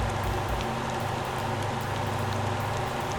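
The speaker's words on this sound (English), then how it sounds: "Oh, it's gonna rain." Steady, dense rain falls in the driving game Motor Town: Behind the Wheel, a continuous even hiss of drops on surfaces with no pauses and no voices.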